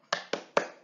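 Three quick, crisp hand claps in a short rhythmic pattern, close and clear in an otherwise quiet room, with no voices.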